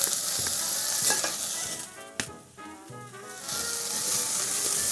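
Garlic hitting a hot pan of softened vegetables and bay leaves for chicken gumbo, giving a steady hiss with stirring scrapes that dips briefly midway, then swells back to a full sizzle; no talking.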